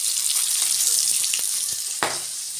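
Fish frying in oil in a home kitchen gives a steady, loud hiss with scattered pops and one sharper spatter near the end, heard up close without talking.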